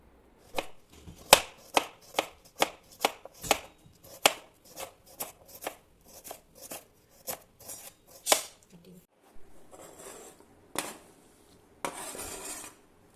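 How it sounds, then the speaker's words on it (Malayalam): A knife finely chops onions on a cutting board, with a quick series of sharp, close taps in steady rhythm, then a few scattered knocks and scraping kitchen sounds. "ഞാൻ അപ്പോഴത്തേക്കും സബോളയൊക്കെ കഴുകി കുനുകുനായി അരിഞ്ഞ് കട്ട് ചെയ്തെടുത്തു."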